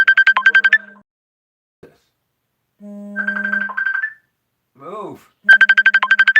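An incoming phone call's ringtone plays as rapid bursts of bright electronic tones, twice over, with other short electronic beeps in between and a single spoken word.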